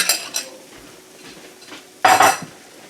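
A utensil scrapes and clinks against a pan while sticky tofu sauce is stirred, with a few light knocks early on and a louder burst of metallic scraping near the end.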